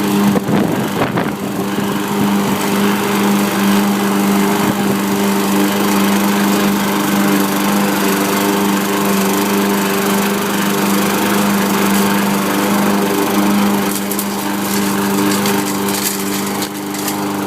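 A John Deere JS26 push lawn mower with MowMentum drive runs close by, its engine droning steadily and loudly with a constant hum throughout, no voices over it.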